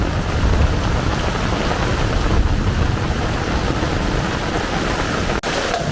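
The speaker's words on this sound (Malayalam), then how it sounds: "നമ്മുടെ ഇവിടെ നിന്ന് നല്ല വെള്ളം വീഴുന്നുണ്ട്" Heavy rain during a thunderstorm pours down with water streaming off a roof, a loud and constant roaring wash that stays dense and unbroken, with a single brief click near the end.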